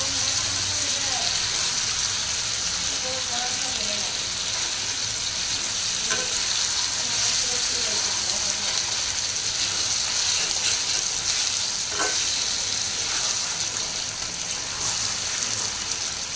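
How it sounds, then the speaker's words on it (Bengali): Chicken pieces and chopped spiny gourd sauté in a hot pan, a steady dense sizzle running throughout with intermittent scraping of a spatula as the mixture is stirred, no voices. "ভালো করে নাড়াচাড়া করে দিতে হবে, নাহলে নিচে লেগে যাবে। এগুলোকে কষাইতে হবে ভালো করে।"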